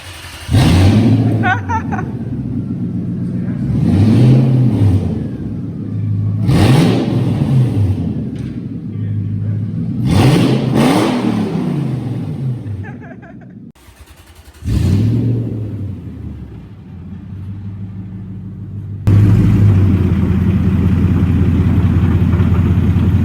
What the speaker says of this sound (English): It's basically straight through exhaust on 4 litre V8.